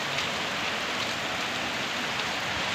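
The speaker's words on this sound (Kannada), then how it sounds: "ಮಳೆ ಆಗ್ತಾಯಿದೆ, ತುಂಬ ಚೆನ್ನಾಗಿ ಆಗ್ತಾಯಿದೆ ನೋಡಿ" Heavy night rain falls in Tumakuru, a dense, steady hiss of drops hitting surfaces, close and continuous without pauses or voices.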